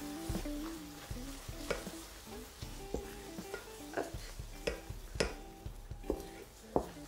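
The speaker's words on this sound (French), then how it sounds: "On va pouvoir en verser une petite partie pour commencer à décuire le caramel." Hot cream is stirred into caramel in a pan, making a busy sizzling bubble with repeated scraping and knocking strokes of the utensil, close and continuous, with no voices.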